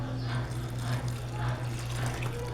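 Water poured into a bowl of flour for homemade bread dough, a continuous splashing pour with a low hum underneath, under a faint background voice.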